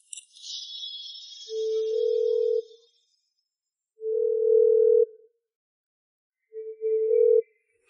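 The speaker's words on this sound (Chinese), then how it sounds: "这个 Peter 怎么就不接电话呢？" An unanswered phone call, heard as a faint ringback tone: a short high chime at the start, then three evenly spaced steady beeps with silent gaps between them.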